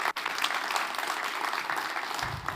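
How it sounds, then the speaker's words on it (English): Conference audience clapping for a speaker at the Devcon VI stage in Bogotá, a sustained even round of applause at moderate distance. "Then please, one more round of applause for Dano."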